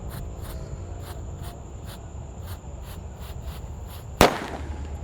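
A Disco Happy Flower firecracker, set off during Eid festivities, gives one sharp, loud bang near the end with a short decay, following a stretch of low background noise and faint repeated clicks.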